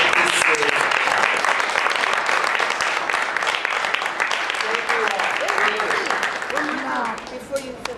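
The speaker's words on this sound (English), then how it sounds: "We offer our host, Dr. Morena Llorente, a huge round of applause" Audience at a Poetry for Peace event applauds its host, dense sustained clapping filling the room, with voices faintly audible underneath and the applause thinning near the end.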